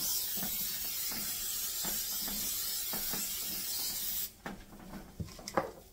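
Cooking spray hisses steadily from an aerosol can into a 9x13 baking pan for about four seconds, close and fairly loud, then stops, followed by a few light clicks and knocks of handling.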